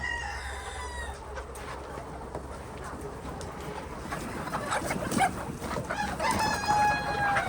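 Chickens cluck and call in a busy farmyard, with a rooster crowing near the end amid steady background noise.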